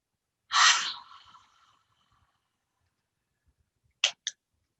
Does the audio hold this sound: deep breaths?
yes